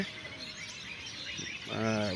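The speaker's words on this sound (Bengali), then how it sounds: "হাজার হাজার পাখি কারেন্টের লাইনে" A dense chatter of thousands of birds chirping at once on power lines at dusk, a little distant, with a voice briefly rising near the end.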